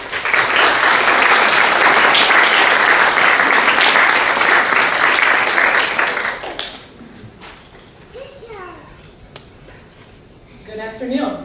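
An audience at a nursing school white coat ceremony claps loudly and steadily for about six seconds, then the applause fades into quiet room noise with a few brief voices near the end.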